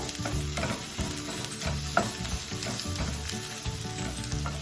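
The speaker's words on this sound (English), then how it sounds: "it's time to add in our zucchini and our asparagus. Stir them so that they get coated with the olive oil too" Zucchini and asparagus sauté in olive oil as they are stirred, giving a continuous sizzle with soft scraping and clacking from the utensil moving through the pan.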